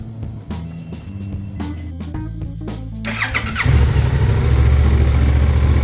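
A Suzuki GSX-8R twin-cylinder sport motorcycle engine cranks with a few clicks, catches, and settles into a steady, fairly quiet idle close by, with no talking over it.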